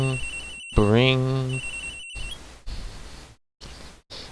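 In the video game Phoenix Wright, an electronic phone ring sounds in two short bursts, broken by a voice that cuts in between them, followed by more talking.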